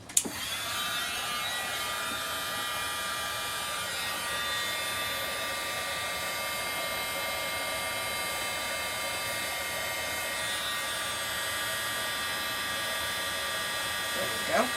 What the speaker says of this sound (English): I'm going to take my tweezers here, hold it, and I'm going to hit it with my heat tool